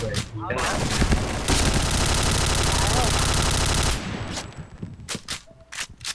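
Sustained automatic gunfire from the video game Point Blank, a dense burst of rapid shots lasting a few seconds, followed by scattered single shots and game sounds, loud and close, with voices chattering around it.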